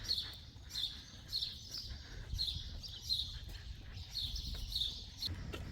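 Repeated high chirps from birds call steadily over a low outdoor hum among green trees in Guanajuato, Mexico, several tweets in a loose rhythm at moderate distance.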